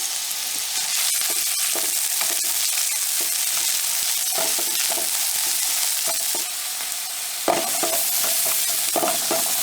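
Onions with a little salt sauté loudly in a hot pan for a Kerala-style snack filling, a steady dense sizzle broken by occasional scraping stirs, close and with no voices.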